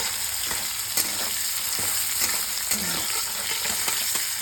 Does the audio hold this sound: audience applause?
no